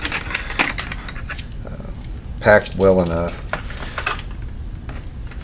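Cheap metal camping cutlery clinks and jangles together in a few bright, close rattling bursts while someone talks over it.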